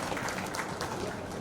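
Audience applause greeting an honoured guest at a Rotary Club gathering in Gadarwara, a dense steady wash of clapping that holds at an even level throughout.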